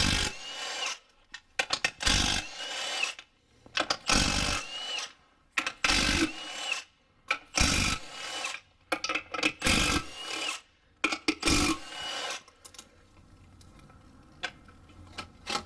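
A hand ratchet clicks in repeated bursts while removing nuts and bolts from an Acura TL 3.2L V6 engine in a garage, quick close rattling ratchet strokes separated by short pauses.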